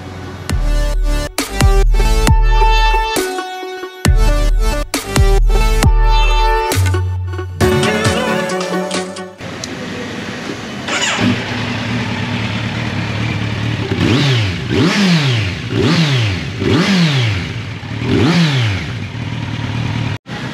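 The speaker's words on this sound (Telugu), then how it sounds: "ఇప్పుడు బైక్ అయితే ఫిక్స్ చేసి ఎలా ఉంటుంది సౌండ్ అనేది మీకు వినిపిస్తాను." A motorcycle fitted with an Arrow Pro Race titanium exhaust runs after a burst of loud music, idling roughly and then revving repeatedly in rising and falling swells, close and loud.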